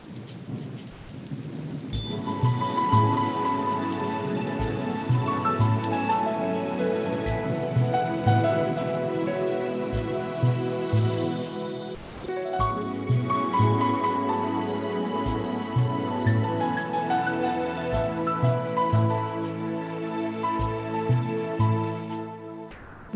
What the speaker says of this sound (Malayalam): മഴയാണ് ഈ ആൽബത്തിന്റെ ബാക്ക്ഗ്രൗണ്ട്.